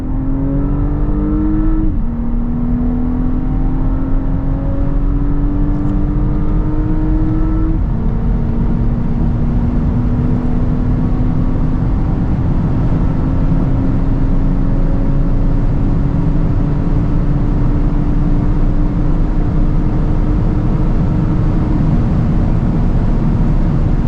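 A 2025 Audi S5 with 367 hp pulls hard from 100 to 200 km/h on the Autobahn. The engine drone rises loud and steady through several gear changes, with strong wind and road roar underneath and no voices.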